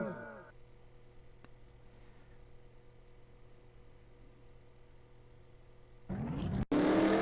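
Race truck engines in a Chevrolet truck series racing video game roar to life near the end, loud broadband revving bursting in after a long stretch of low steady idle hum and faint background tones.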